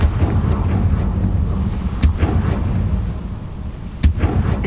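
The Confringo fire-blast spell is cast in Hogwarts Legacy: two sharp, bright bursts crack out about two seconds apart over a steady, rumbling wind-like background.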